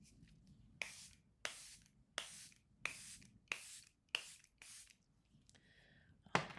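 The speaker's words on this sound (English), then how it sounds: "now I'll go in with my Charlotte Tilbury Finish Setting Spray" Charlotte Tilbury Finish Setting Spray being pumped in about eight short, evenly spaced spritzes, each a soft hissing burst, close and quiet.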